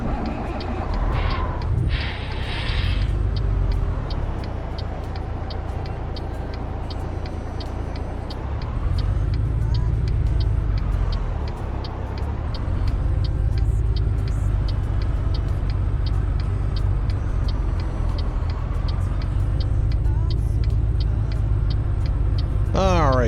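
A Peterbilt 389 truck in American Truck Simulator rumbles and idles steadily at close range, with a brief hiss of air brakes near the start.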